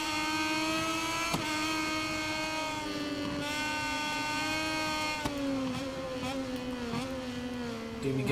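A Moto2 motorcycle engine in MotoGP 22 screams at high revs through a corner at the Australian round, its pitch rising and dipping with throttle changes, loud and continuous throughout.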